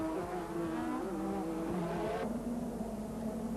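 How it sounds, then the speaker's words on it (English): 1986 Formula 1 racing cars roar past accelerating hard out of a fast corner, a dense high-pitched engine wail that holds steady and shifts pitch as they go by. "Mansell took 1st place from Berger as they accelerated out of the Parabolica."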